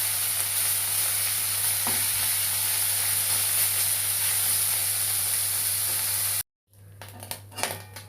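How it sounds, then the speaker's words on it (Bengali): Kachki fish frying in hot oil in a wok, a loud, steady hiss and sizzle that cuts off abruptly, followed by quieter clattering stirs and crackles. "এবার আমি দিয়ে দিলাম মাছগুলো। মাছগুলো ভালো করে ভেজে নিতে হবে।"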